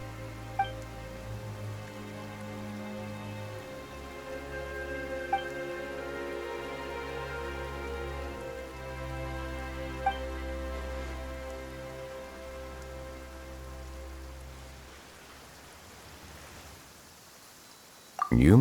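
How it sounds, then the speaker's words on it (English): Steady rain falls in the PC game Genshin Impact, a continuous soft hiss of drops layered under sustained game music, running unbroken until a sudden loud burst at the very end. "Why is it raining all of a sudden?"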